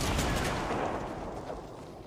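Video game gunfire in a dense, loud burst of rapid shots that slowly tapers off over about two seconds.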